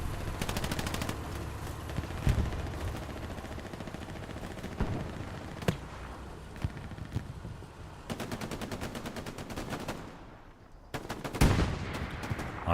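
Rapid automatic gunfire from a console multiplayer war game, dense bursts and single shots rattling continuously at varying distances, loud and sustained with brief lulls, no talking.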